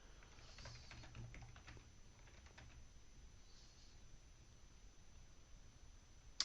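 Keys tapping on a computer keyboard while HTML is entered, a steady run of light, close clicks that thin out toward the end, heard alone with no talk.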